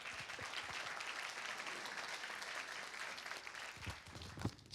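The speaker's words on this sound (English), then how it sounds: "A round of applause for Russell Gibbs, everybody." Applause from a luncheon audience at a Rotary Club of Tulsa meeting, steady dense clapping throughout at moderate level, with a few sharper individual claps near the end.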